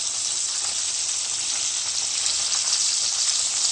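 Extra large spicy shrimp fry in a pan with a steady, dense sizzle that holds at an even, fairly loud level throughout, with no voices.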